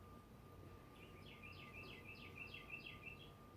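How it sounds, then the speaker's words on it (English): Outside, a small bird gives a quick series of about eight short, faint chirps in a rhythmic run, heard distantly through a quiet room with steady low hum. "hopefully you guys could hear that bird outside"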